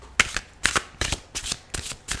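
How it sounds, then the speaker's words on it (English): Close-up tarot card shuffling near the microphone in repeated quick riffling bursts, loud and crisp, about six bursts in a steady rhythm. "please don't shuffle so close to the microphone."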